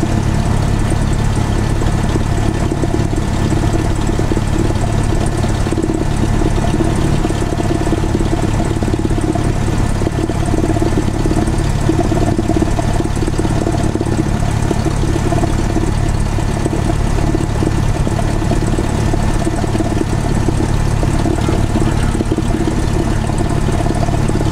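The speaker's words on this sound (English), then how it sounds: "the airplane can start taxiing and moving at an idle RPM" A Cessna 172 light airplane engine idles steadily while taxiing, a continuous loud drone with an even low rumble and no gaps, heard up close with no talking.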